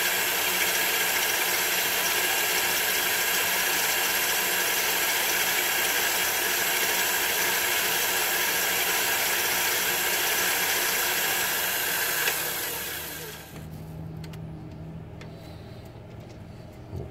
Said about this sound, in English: And I will be sanding the inside of this as well.